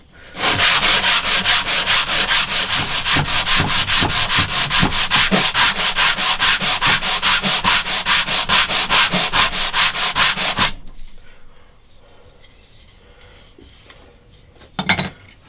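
Steady, loud scratchy sanding with a fast regular stroke rhythm on the wooden back of a handmade guitar, running for about ten seconds before stopping, followed by quieter handling and a brief scrape near the end.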